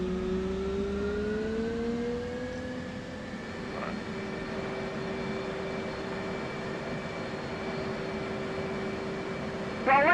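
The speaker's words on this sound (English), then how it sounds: "You can hear that engine. There it is. Spooling up, baby." An F/A-18C Hornet's jet engine spools up during a cold start in the DCS World flight simulator, a steady whine with tones slowly rising in pitch over a constant background rumble, moderately quiet and without talk.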